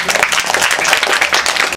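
Dense, close burst of audience applause at a school event, many hands clapping rapidly and loudly for under two seconds before cutting off abruptly.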